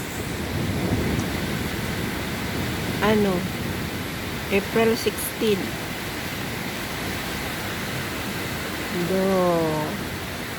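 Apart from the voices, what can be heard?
heavy rain outside a window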